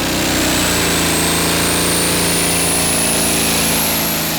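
The pulling tractor Shrek, driven by Morten Poulsen at a Danish tractor pulling championship, roars at full power in one loud continuous engine blare with a rising whine, dense and unbroken throughout.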